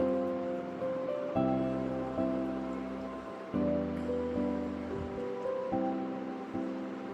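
Puffed rice is stirred through caramel in a pan, giving a soft, crackling rustle in repeated bursts of scraping and tossing, close and moderately faint with no speech.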